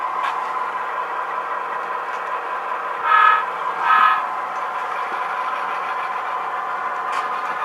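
A small MTH Proto 3 O gauge model train locomotive on an automatic DCC shuttle hums steadily and close, with two short horn toots in the middle and a brief one near the end.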